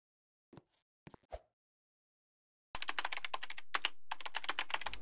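Someone types on a computer keyboard, a quick clatter of close keystrokes after a few isolated clicks and a pause, heard alone in a quiet room.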